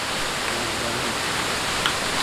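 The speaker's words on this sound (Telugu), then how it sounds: "వెనకాల వాటర్ ఫాల్స్" Steady, dense rush of falling water from Jana Falls near Manali, heard from a roadside dhaba just behind it, a constant broadband roar running unchanged throughout.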